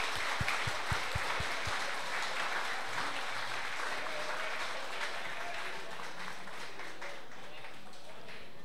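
A crowd applauds continuously, a few sharp close claps at the start, then a steady wash of clapping that holds at moderate level.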